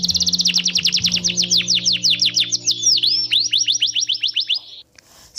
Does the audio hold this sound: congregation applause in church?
no